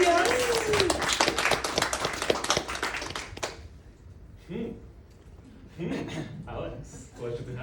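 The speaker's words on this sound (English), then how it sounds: "give her a round of applause" Club members at a public speaking session clap in a dense round of applause for about three seconds, then it fades out and a few voices talk and laugh nearby.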